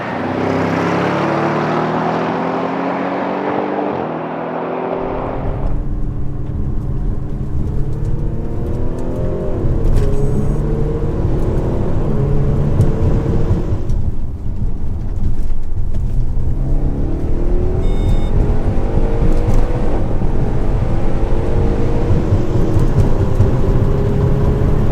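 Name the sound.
Audi RS6 Performance and A6 Allroad accelerating in roll race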